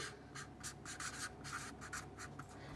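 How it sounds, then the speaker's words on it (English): A thick pen writes a title on paper at close range, giving quick scratchy strokes in short bursts with brief pauses between them, soft and alone. "So we start writing the title."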